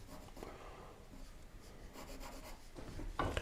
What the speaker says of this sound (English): Are pencils always that noisy?